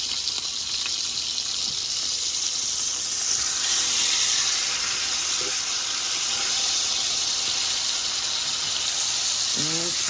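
Steak and sweet potatoes frying in an iron skillet over medium-high heat, a loud, continuous hissing sizzle that holds steady and close throughout, with a faint scrape near the end and no talking.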